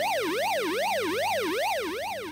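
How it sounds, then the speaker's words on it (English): A synthetic electronic siren tone from a computer sound chip, programmed in BASIC, sweeps steadily up and down in pitch, about six smooth rising-and-falling cycles, loud and continuous with a buzzy chip-like timbre. "We can also vary the frequency over three periods to create a siren effect."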